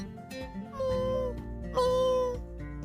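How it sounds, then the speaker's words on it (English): High, tonal kitten meows over a steady musical background, a couple of drawn-out calls in quick succession. "That sounded like a kitten."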